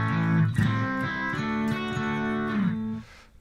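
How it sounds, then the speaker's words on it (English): A sustained synth tone run through the distortion multi-filter of a Folktek Alter X multi-effects pedal, gritty and buzzing, with stepped pitch changes before it cuts off near the end. "And some kind of distortion multi-filter."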